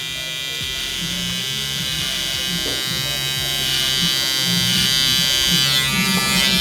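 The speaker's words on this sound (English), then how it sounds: "we can literally flip our trimmer to this position and start slowly" An electric hair trimmer buzzes steadily while cutting hair during a low taper mullet haircut at a barber, close and continuous, with a voice talking over it throughout.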